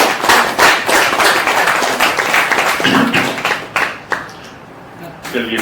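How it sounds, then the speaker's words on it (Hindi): An audience bursts into loud, dense clapping at a motivational event for newly trained women, fading after about four seconds, with voices heard toward the end. "जोरदार ताली मारिए"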